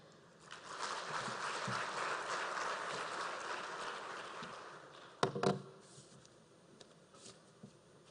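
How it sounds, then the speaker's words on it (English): An audience at a central bank monetary policy statement event applauds the Governor as he takes his seat, a soft, steady patter of many hands that swells, holds, then fades, followed by a few faint knocks. "Another round of applause for Governor as he takes his seat"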